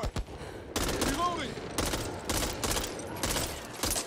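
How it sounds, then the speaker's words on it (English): SMG fire in the co-op zombie shooter Back 4 Blood, coming in loud repeated bursts with short gaps between them, heard alongside in-game effects and faint voices. "Trying to snipe with an SMG is not easy."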